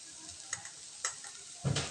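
Salted mashed eggplant mixture frying in a pan for a Vidarbha and Khandesh style bharit: a soft steady sizzle with a few stirring scrapes and a louder burst of sizzling at the end.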